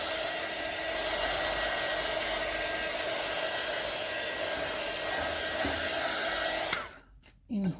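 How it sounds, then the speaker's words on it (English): Heat tool blowing a steady, loud rush of air over a mixed media art journal page freshly painted with acrylic, running continuously and then cutting off abruptly near the end with a brief click. "So I'm just going to do a quick run with the heat tool."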